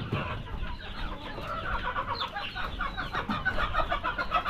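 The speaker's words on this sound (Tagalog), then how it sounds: "Pati mga rooster meron tayo." A flock of darag chickens and roosters on a farm cluck and murmur nearby in overlapping, busy bursts that grow livelier toward the end.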